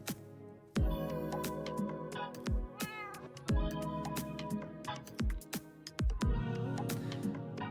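A cat in Minecraft meowing repeatedly, a series of short, clear, close meows in an irregular rhythm over a steady low background tone.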